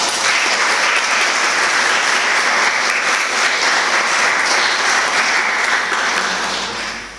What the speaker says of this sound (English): we might just give a final special round of applause to all our graduates and wish them well